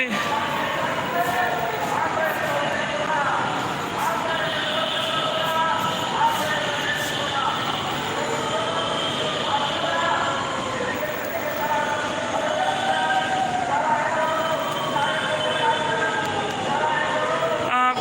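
Inside a moving Dhaka metro train, a loud continuous rumble and roar with squealing wheel tones rising and falling throughout, steady from start to finish.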